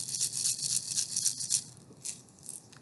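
A pepper grinder is shaken, its coarse contents rattling in a quick, hissy, steady rhythm at close range, then fading a little toward the end.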